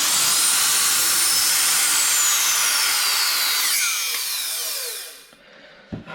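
A hand plane is pushed along a shooting board to square the ends of table leg stock for a Shaker side table, giving one long, bright, steady shaving hiss that fades out, followed by a faint knock.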